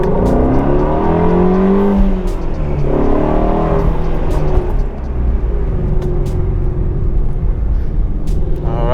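A Ford Shelby GT350 revs hard through a quick acceleration pull, its loud, close engine note climbing in pitch, dropping briefly at the shift and pulling again, with continuous road and exhaust roar throughout and no talking.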